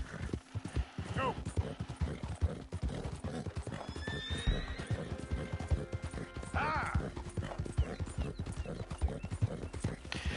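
Rhythmic hoof clip-clop of a galloping horse in Red Dead Redemption 2 with a whinny partway through, under steady background noise and a talking voice.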